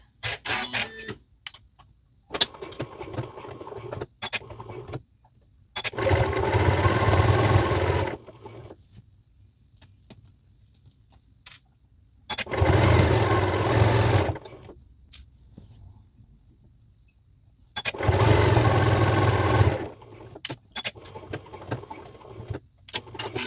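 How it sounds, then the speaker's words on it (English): A sewing machine stitches binding onto a Shannon Fabrics Bambino Cuddle blanket in three loud, close bursts of a few seconds each, with quiet handling of the fabric between them. "We'll just stitch to the end of the gap"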